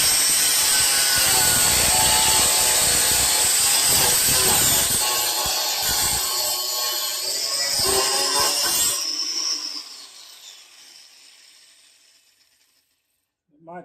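A grinder cuts a Bushwacker front fender flare, giving a loud, harsh, high whine for about nine seconds before it winds down and fades to near silence.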